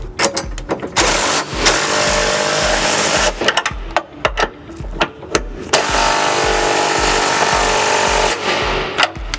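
On a 2004 Buick Rendezvous, flange nuts for a trailer hitch are snugged up with a 19mm socket and extension, heard as loud bursts of rapid ratcheting, mechanical whirring separated by short pauses and clanks.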